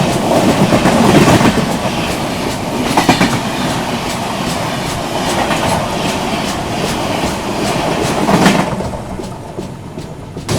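The 12141 Patliputra SF Express pulls into Kalyan Junction with a loud, steady rumble and rhythmic clickety-clack of wheels over rail joints, continuous throughout with no voices.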